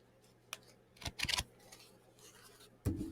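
A deck of cards is shuffled in short crisp riffling bursts, quiet and close, with brief pauses between them and no talking.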